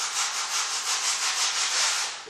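Sandpaper rubs back and forth along the lower edge of a linoleum block in quick, even strokes, a close, dry scratchy rasp with a steady rhythm and no talking.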